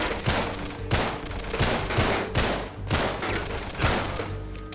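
Rapid bursts of gunfire from the action game Uncharted 3: Drake's Deception, loud and close, repeating roughly once per second in a steady rhythm of heavy shots with no talk.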